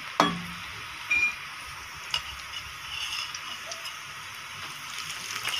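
Bay leaf, star anise, green cardamom and whole cumin hitting hot oil in a pot for a lentil biryani, giving a soft steady sizzle with sharp clinks and taps of a spoon stirring near the start.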